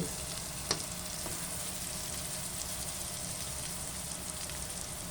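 Crushed garlic sautéing in a pan for a mung bean dish, a constant close sizzle with a sharp knock near the start and occasional faint crackles, no talk.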